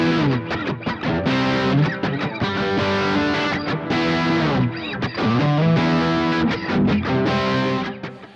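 Electric guitar played through a Vox amPlug3 UK Drive headphone amp, giving a crunchy, distorted British-stack tone of ringing chords and riffs, close and loud with no talking.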